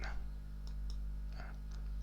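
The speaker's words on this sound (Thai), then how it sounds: "คลิกเมาส์ข้างขวา แล้วก็กด เลือกชื่อฟอนต์คลิกเมาส์ข้างขวาแล้วก็กดปุ่ม delete ได้เลยนะครับ" Computer mouse clicks while deleting fonts in Windows 10, a few small, sharp ticks spaced apart over a steady low hum, fairly quiet.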